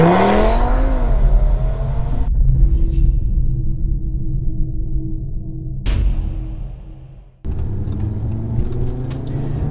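A 2018 Audi TT RS engine revs and accelerates loudly at first, then settles into a low steady hum, cuts briefly near the end, and rumbles back in strongly.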